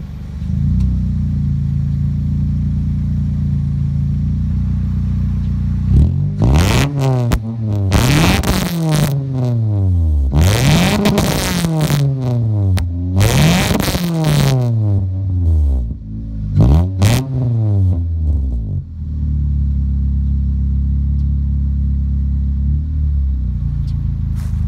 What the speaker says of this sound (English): Now one last thing before I end the video is an exhaust clip.